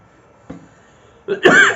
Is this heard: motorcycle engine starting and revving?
no